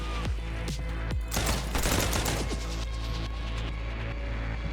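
A flurry of gunshots in the video game Jackal, several sharp cracks fired in quick irregular succession over a steady rumbling background.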